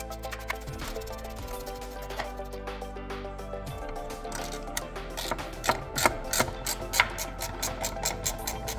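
Ratchet working T20 bolts off an intake sensor on a Toyota GR Supra MK5, a close, steady stream of rapid mechanical clicking that grows louder and more spaced toward the end, with no talking.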